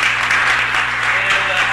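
Applause at a city council meeting in Los Angeles welcoming a visiting delegation, a dense, steady burst of many hands clapping filling a large room.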